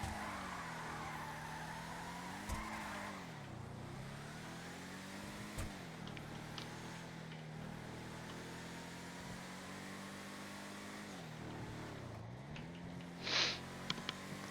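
Car racing flat out in a FiveM GTA roleplay game, a steady engine roar that dips and climbs with repeated gear shifts and a brief tire squeal, heard alone and fairly quiet.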